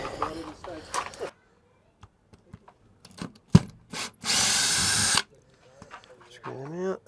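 A power tool briefly whirs for about a second while unscrewing screws from a pulled-out centre strip, with scattered knocks and handling clatter around it and a voice talking before and after.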